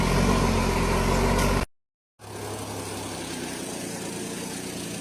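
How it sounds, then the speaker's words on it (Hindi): A modified eight-cylinder car engine roars steadily and loudly, cuts out abruptly to a brief silence, then returns as a lower, rougher engine drone; no talking. "गोंद से लदी 8 सिलेंडर वाली यह मॉडिफाइड कार दहाड़ती हुई आगे बढ़ रही है।"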